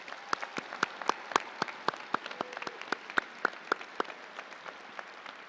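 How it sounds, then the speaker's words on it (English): An audience at a Touro University white coat ceremony claps for parents and loved ones, with distinct, fairly regular claps that sound sparse and moderately loud rather than a dense roar. "give them a round of applause that's so loud that we can't even take it down"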